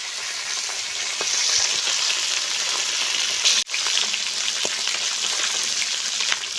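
Food frying in a pan in a village kitchen gives a loud, steady sizzle close by, broken once by a brief stirring clatter, with no voices.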